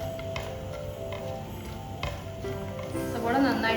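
About one and a half onions sauté in hot oil in a pan, with a faint, steady sizzle and occasional light stirring clicks throughout.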